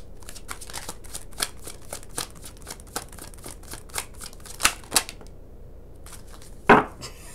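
Tarot cards being shuffled and handled in a quiet room, a run of crisp, separate snaps and taps with louder flicks near the end and no talking.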